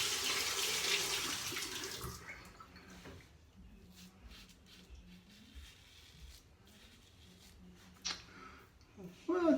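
Tap water running into a sink to rinse a razor during a shave, with a loud rush at first, then fainter splashing and trickling, and a brief burst of flow near the end, with someone speaking.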